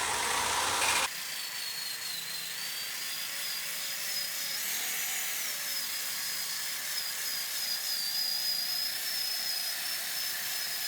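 A polishing machine whirs steadily against a Honda S2000 headlight, a continuous high whine that holds for about ten seconds without a break.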